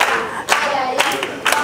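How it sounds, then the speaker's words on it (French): An audience at a children's club show claps and cheers in short bursts of scattered clapping under a busy crowd murmur, close and fairly loud. "On acclame encore pour eux."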